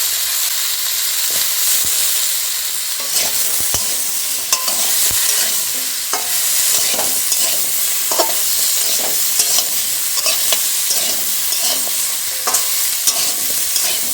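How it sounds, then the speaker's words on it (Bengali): Loud, steady sizzling of winter vegetables and soy chunks frying in a pan, with frequent scraping clicks of a utensil stirring throughout. "সবজিগুলো ভাজা হয়ে গেছে"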